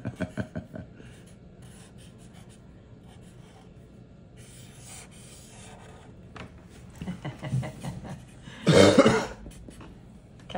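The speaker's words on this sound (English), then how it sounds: "Dad's got some coughing going on." A man coughs near the end, a loud burst of a few harsh coughs at close range, after a stretch of quiet rustling and small handling sounds.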